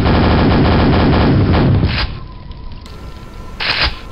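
Nail gun in the video game Quake firing a rapid, loud mechanical burst for about two seconds, then stopping, followed by a short burst of noise near the end.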